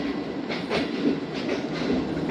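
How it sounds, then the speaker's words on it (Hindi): Pak Business Express passenger train pulling out of Samma Satta junction at night, a steady rolling rumble with faint rhythmic wheel clatter on the rails, continuous and moderately loud throughout, no voices. "गाड़ी रवाना हो गई जनाब सम्मा सट्टा जंक्शन से।"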